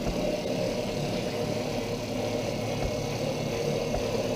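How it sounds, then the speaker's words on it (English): Electric motor on a pig roaster driving a worm gear reduction, running in a steady continuous hum with a low mechanical drone and faint vibration, close and alone with no talk. "Well, you can see the motor, of course, turns pretty quickly"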